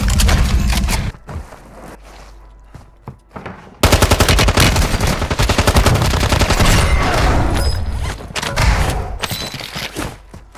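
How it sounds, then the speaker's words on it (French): Rapid bursts of automatic gunfire from an online shooter video game, loud and sustained over several seconds, with brief pauses between volleys. "J'ai tiré toutes mes balles à côté."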